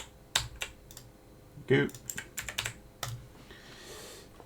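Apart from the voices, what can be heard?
typing on a computer keyboard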